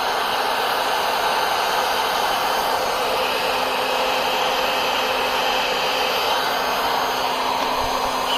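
Hot air rework station blowing steadily to lift a wifi chip off a PS3 circuit board, a loud, constant hiss that holds without a break for the whole stretch.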